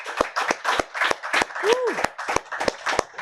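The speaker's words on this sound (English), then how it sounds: "Round of applause for Tropical Nomad," A small audience claps for Tropical Nomad at a speaking event, sparse rhythmic claps from a few people, close and distinct, with a brief voice sounding in the middle.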